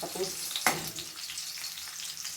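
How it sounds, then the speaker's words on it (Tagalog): Food sizzles in cooking oil while being stirred, a steady, fairly soft frying hiss close by with a single sharp utensil knock early on. "I-stir natin sa mantika"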